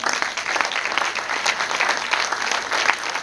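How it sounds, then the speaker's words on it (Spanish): Church congregation applauding during a sermon: thick, continuous clapping from many hands, loud and sustained with slight swells throughout. "Regalen un aplauso a Jesús, vamos."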